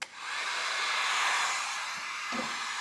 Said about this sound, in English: Start the heat gun